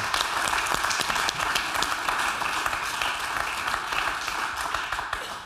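A television studio audience on an Italian talk show applauds in a full, steady burst of many hands, close and uninterrupted for several seconds with no talking.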